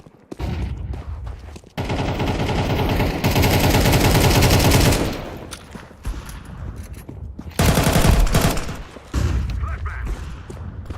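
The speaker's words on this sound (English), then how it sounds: "I'm throwing a flashbang." Rapid automatic gunfire and sharp bursts in a video game firefight, loud and sustained in long stretches, broken by brief lulls and a muffled blast. Voices can be heard under the shooting.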